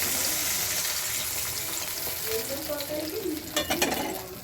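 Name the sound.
water poured into a frying pan of potato curry, sizzling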